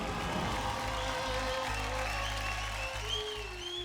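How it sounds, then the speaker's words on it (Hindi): A television dance-show audience applauds steadily, a broad wash of clapping under faint background music, fairly distant and quiet throughout. "जोरदार तालियां"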